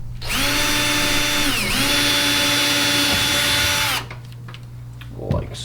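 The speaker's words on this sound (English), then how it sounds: "we're gonna drill our hole to start with" A power drill bores a hole into a kayak hull, a loud steady whine lasting about four seconds with a brief dip in speed midway, then stopping abruptly, followed by quieter handling sounds.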